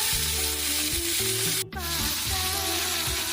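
Banjar masak habang spice paste hits hot oil with a continuous close sizzle over background music, dipping briefly midway before carrying on steadily.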